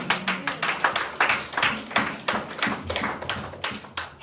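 A church congregation claps in steady rhythmic unison to acclaim the Lord, sharp, close hand claps repeating about every quarter second.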